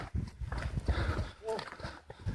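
Horses move about at a stable at the end of a trail ride, with hooves clip-clopping irregularly nearby and a short whinny, while people talk over the sounds.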